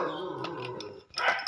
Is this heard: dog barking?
yes